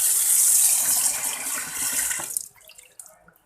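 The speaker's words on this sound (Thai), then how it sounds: "ล้างเลยครับ ล้างก่อน นิดนึงเปิดน้ำ" Tap water runs in a steady hissing gush while pork intestines are washed, then cuts off abruptly, leaving a few faint drips and splashes.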